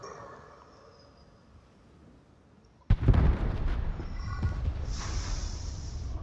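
Tier VI German destroyer Ernst Gaede firing its guns in a naval battle game: a sudden loud blast about midway after quiet, followed by sustained rumbling and further bursts.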